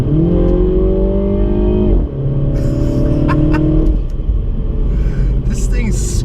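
A Mini Cooper S in sport mode accelerates hard, the engine note climbing through the revs, dropping at a gear change, then pulling up again, loud and close from inside the car with a few brief clicks and rattles.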